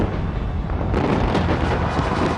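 New Year fireworks over Dubai in a record-attempt display, a dense continuous roar of booming bursts and crackle rolling together, loud and sustained with no pauses.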